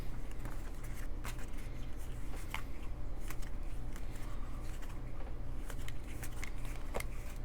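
A Tarot de Marseille deck, a New Vieville or Classic Noblet edition, is shuffled in soft, irregular riffling patters and light card slaps, faint and close over a steady low hum.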